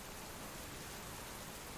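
Steady rain falls in the survival game Subsistence, a dense, even hiss that holds constant and moderately loud with no other sounds over it.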